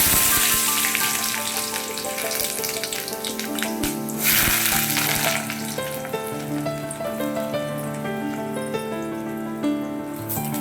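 Onions frying in deep hot oil for a mutton dum biryani give a steady, close crackling sizzle with bubbling that holds throughout, while a tonal background sound runs beneath it.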